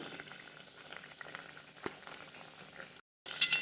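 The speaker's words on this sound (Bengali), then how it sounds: "এবার আমি কাটলেটগুলো এভাবে আস্তে করে ছেড়ে দেবো তেলের ভেতরে এই হচ্ছে কাটলেট ভাজা" Cutlets sizzle in hot oil over a medium gas flame, a soft continuous crackle and bubbling with scattered pops, quiet and close; a brief dropout near the end is followed by a louder burst.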